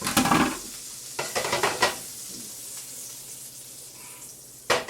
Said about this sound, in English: take a little bit of the white wine